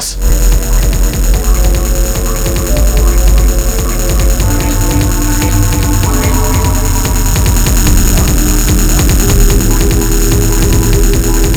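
An Ensoniq Fizmo synthesizer run through flanger and reverb gives a dense, loud, swirling drone with throbbing pulses and a shimmering, sweeping upper wash that keeps evolving without a break.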